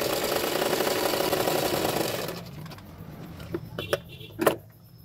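A sewing machine runs a steady close whirring line of stitching on a katori blouse, then stops, leaving a few soft clicks and handling sounds.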